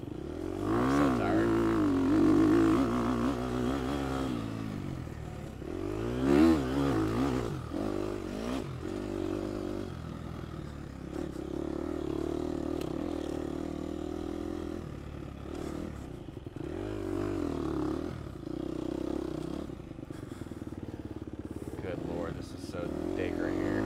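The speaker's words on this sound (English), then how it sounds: "You can hear the enthusiasm in my throttle." A Gas Gas EX250F dirt bike revs hard during a harescramble race, its throttle rising and falling in repeated surges under the rider's steady talking.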